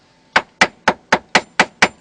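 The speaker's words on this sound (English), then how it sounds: "I just alternate back and forth with a little tiny hammer" Seven sharp metallic taps from a small hammer wedging RV over-cab flooring, evenly spaced about a quarter second apart, close and clear with no talking.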